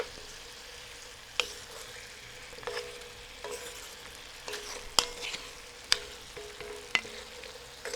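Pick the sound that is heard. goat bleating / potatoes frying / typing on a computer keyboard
potatoes frying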